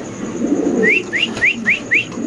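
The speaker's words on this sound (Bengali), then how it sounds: "কবুতরের ডাকটা একটু দেখেন" An original GNS pigeon gives five short, rising coos in an even rhythm, close and clear over a low murmur of background noise.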